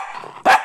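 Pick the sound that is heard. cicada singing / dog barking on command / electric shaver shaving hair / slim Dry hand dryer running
dog barking on command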